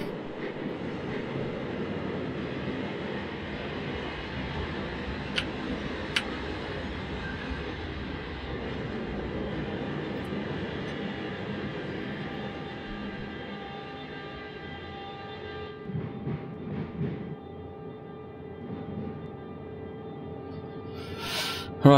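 A BR 146 electric locomotive hauls a regional train on the Köln–Koblenz line in Train Simulator 2018, giving a steady, continuous rolling rumble with a few sharp clicks and a brief rise in noise near the end.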